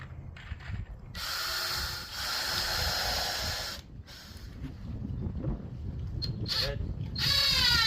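Cordless power drill driving screws into cedar privacy fence boards outdoors, a sustained whirring burst lasting about three seconds, then quieter ratcheting and handling noise, with a second short drill run at the end.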